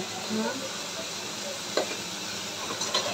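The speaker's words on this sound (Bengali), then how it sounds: "এই মশলাটা কষছে" Spice paste for prawn malaikari fries and hisses in a pan while being stirred, a steady close sizzle with scraping strokes and a sharper clack near the end.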